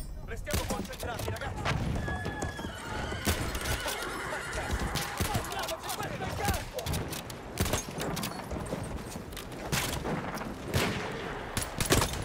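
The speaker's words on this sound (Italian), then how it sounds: "Soldato nemico a cavallo, laggiù!" In the video game Battlefield 1, an enemy cavalry horse neighs amid a busy battlefield with gunfire bursts and shouting voices. Sharp shots keep cutting through the dense mix.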